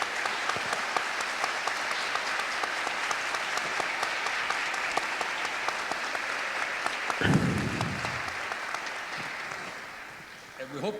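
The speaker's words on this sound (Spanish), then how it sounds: "Un aplauso." Steady audience applause following talks at a conference on urban change, a dense wash of clapping that continues then gradually fades, with a brief voice breaking in partway through.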